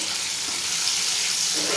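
Spices with tomato, salt, sugar and Kashmiri chilli powder frying in a pan for paneer curry, a dense close sizzle heard alone, with a brief stirring scrape near the end.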